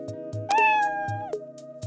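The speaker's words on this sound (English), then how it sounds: "Let's say we want the cat to meow." A bright cartoonish meow with a rising then falling pitch, set over a steady repeating musical background loop.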